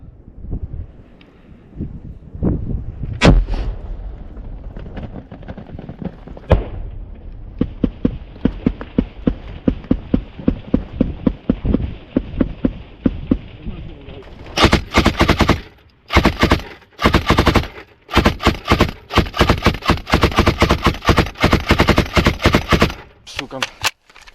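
Rapid bursts of machine gun fire rattle out in long loud strings in captured trenches near Bakhmut, with heavier booming shots and wind buffeting the microphone.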